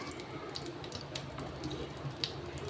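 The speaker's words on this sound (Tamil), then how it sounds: "இப்போ இந்த தண்ணியை ஃபில்டர் பண்ணிவிட்டு ஜவ்வரிசியை மட்டும் எடுத்துக்கலாம்" Water drains and trickles as soaked sago pearls are strained to separate them from the liquid, a steady close splashing with a few small drips and clinks.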